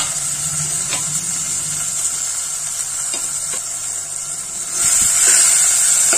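Crushed onion, tomato and garlic sizzle in a pan with a steady bright hiss that swells louder near the end, with a few faint knocks of stirring underneath.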